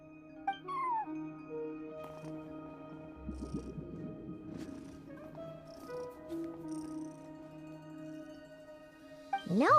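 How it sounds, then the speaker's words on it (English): A cat in the Genshin Impact video game meows a few times, with clear rising meows near the start and end over soft background game music and a brief rustle in the middle. "No one except for a cat watching over the front desk."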